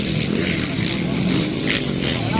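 Racing motorcycles at the intermediate class of a festival motor race in Cagayan de Oro City, a dense continuous engine drone with buzzing mid tones, heard behind an announcer's voice.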